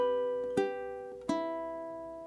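Fingerpicked ukulele plays a simple melody in quarter notes, with two clear plucked attacks ringing over sustained strings, close and fairly quiet.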